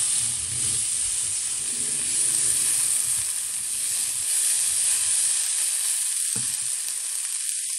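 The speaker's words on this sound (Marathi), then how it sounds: "आणि मीठ घालून फ्राय करून घ्यायचं. आता याच्यात कॉर्न घातलेले आहे." Corn fried with salt in a pan for a Mexican-style wrap hisses and sizzles continuously up close, the sound thinning briefly near the end with a small stirring knock.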